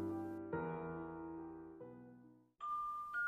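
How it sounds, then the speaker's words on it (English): A bell rings out in a short sequence of sustained chime tones at changing pitches, clear and resonant, followed by a brighter higher ring, with no talk. "Macbeth commands his servant to tell Lady Macbeth to ring the bell when his drink is ready."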